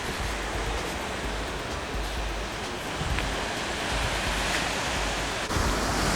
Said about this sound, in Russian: Вот такое у нас